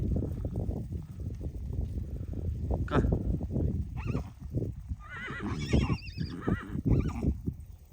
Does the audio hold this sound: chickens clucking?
no